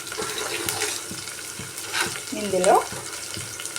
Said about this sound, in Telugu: ఒక 2 మినిట్స్ ఆనియన్స్ ఫ్రై అవ్వాలి.